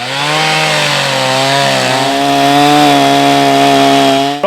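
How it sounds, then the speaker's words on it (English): Chainsaw cutting through a log at a woodsmen competition show, a loud, steady, high-revving whine held for several seconds with a slight pitch drop partway through, running without voices. "I want to show you folks how much faster a chainsaw is versus the old competition racing crosscut saw"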